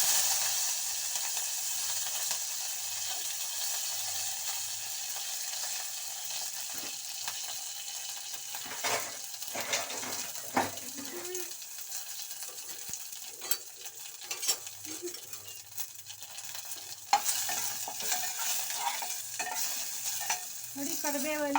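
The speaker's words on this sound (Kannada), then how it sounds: "ನೋಡಿ ಕರಿಬೇವೆಲ್ಲ ಫ್ರೈ ಆಗಿದೆ" Curry leaves frying in oil alongside spluttering mustard seeds for a dosa chutney tempering, a soft steady sizzle with intermittent spoon taps and scrapes against the pan; no speech.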